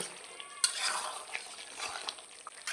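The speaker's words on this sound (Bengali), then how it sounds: "মশলাটা দিয়ে একটু মিশিয়ে নেব" Garam masala being stirred into chicken curry in a pan, with a soft sizzle and scraping spoon strokes, a sharp clack at the start, close and fairly quiet.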